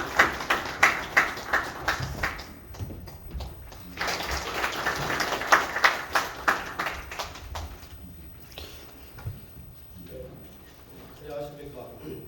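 An audience at the Gwanak civic forum claps to welcome the foundation chairman: a rhythmic, fairly close run of handclaps that thins out and fades, with voices murmuring over it.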